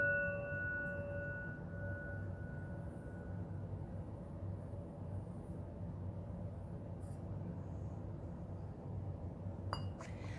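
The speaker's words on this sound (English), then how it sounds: "you may hear some chimes or outside noise" Gentle wind chime tones ring out through an open window over a steady outdoor background hum, with a few faint metallic clinks scattered through.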